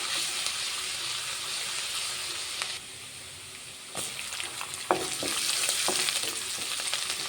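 Onion sautéing with crushed ginger and garlic for a prawn and potato curry, an even sizzle with a few spoon scrapes and clinks, dipping briefly before rising again.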